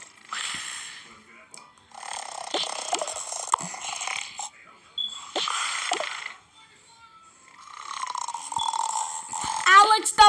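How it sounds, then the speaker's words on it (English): Loud snoring in rough, rasping bursts lasting a second or two each, repeating irregularly with brief pauses between, ending on a sharper snort. "Who snores that loud?"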